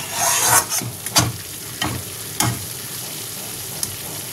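Masala for a chital fish curry being stirred and fried in a little oil: a steady sizzle punctuated by several sharp spoon scrapes against the pan, close and without talk.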